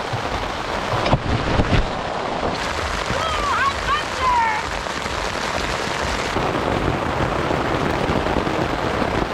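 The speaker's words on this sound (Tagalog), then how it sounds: "It's raining so hard" Heavy rain pours down with gusting wind during a storm on a mountain campsite, a dense, loud, constant roar of water hitting surfaces, with brief bursts of nearby voices.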